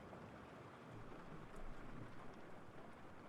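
Steady rain hiss fills the background as a soft, even wash with no voices.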